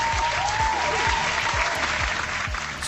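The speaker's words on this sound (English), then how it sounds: "Round of applause for you guys." A round of applause rolls on steadily at close range, dense crowd-style clapping that stays loud for about three seconds, played during a livestream of the PC game Indiana Jones and the Great Circle.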